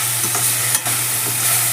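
Greens sautéing in oil for a chicken keema balls gravy, a steady close sizzle with soft stirring scrapes running throughout, no voices.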